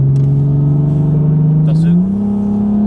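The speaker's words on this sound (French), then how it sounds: "Elle a un petit ronronnement sympa ta caisse" A 2016 BMW 340M with an 8-speed automatic gives a steady, loud, close engine burble that climbs slightly in pitch near the end, with no other sounds.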